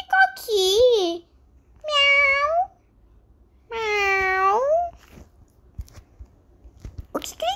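A cat meows loudly three times up close, long drawn-out cries with pauses between, followed by faint soft rustles and a short final call.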